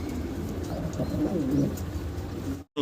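Black Mondian pigeons coo low and soft over a dense background murmur of many birds, continuous until a sudden brief cutoff at the end.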